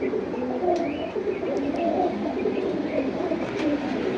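Pigeons kept for sale coo softly in a loft, a dense murmur of low burbling calls from several birds with occasional faint chirps, steady and close without speech.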